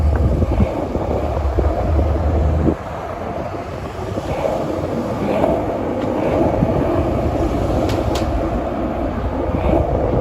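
A New York City subway 6 train rumbles past on the east side of Manhattan, a loud, continuous roar with rail rattle and faint squeals, heavily buffeted by wind on the microphone.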